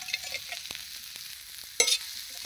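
Bombil fish masala is stirred in an iron pan over a wood-fired clay stove, with scraping stirs against the metal and a short burst of sizzling. No voices.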